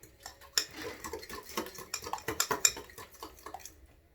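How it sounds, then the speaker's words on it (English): A yellow, mustardy egg salad dressing is stirred in a bowl, with a spoon clinking and scraping in quick irregular strokes, close up and with no talk. "Stir it all up, give it all a good mix."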